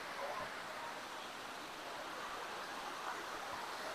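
Water pours down from above inside a cave resort, a faint, constant broadband rush like a small waterfall or stream with no pauses or breaks.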